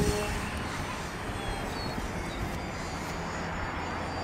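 An FT Bloody Wonder RC plane tries a vertical takeoff outdoors, its small electric propeller motor giving a steady, moderately loud whine with broad airy noise and no talk throughout.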